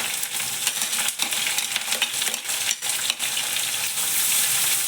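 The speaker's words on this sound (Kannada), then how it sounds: "ಸ್ವಲ್ಪ ಈರುಳ್ಳಿ ಫ್ರೈ ಆಗಬೇಕು." Chopped onions fry in hot oil with mustard seeds and cumin, a loud, dense sizzle punctuated by stirring scrapes.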